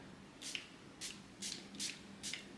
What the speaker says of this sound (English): I forgot what the spritzer was like and I sprayed it way too close